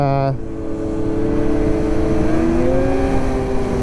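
A snowmobile engine drones steadily and rises in pitch as it revs up, loud and close throughout.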